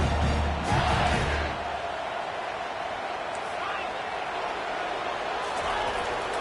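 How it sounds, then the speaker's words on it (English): A football stadium crowd roars in a sustained loud wash of yelling and screaming, heard under a voice talking over it. "for an entire game, they are on their feet, yelling, screaming"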